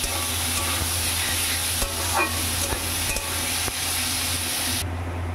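Chicken pieces hit hot oil with fried onion and garlic in a pan, giving a loud, steady sizzle with occasional stirring clatter throughout. The crackle thins out abruptly near the end.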